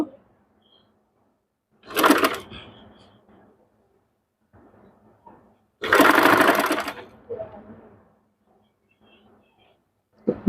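Sewing machine stitching a puff sleeve, in two loud bursts of rapid running with quieter handling noise between them.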